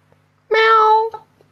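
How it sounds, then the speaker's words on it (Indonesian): A cat gives a single clear, drawn-out meow, close and fairly loud, in a quiet room during a discussion, followed by a few faint shuffling sounds. "Tolong kalau lagi diskusi jangan bunyi kucing."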